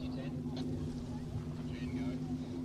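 An offshore superboat idles on Lake Macquarie during a race, its engine a steady low droning hum that holds throughout at a moderate distance, with a voice talking over it.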